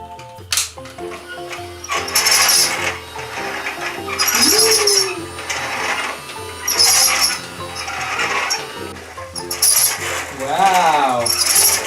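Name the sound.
Casdon kids Dyson DC14 toy vacuum cleaner running, spinning beads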